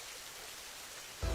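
Rain falling suddenly at a home where washed clothes hang outside, a steady soft hiss of rain on surfaces with a louder thump right at the end.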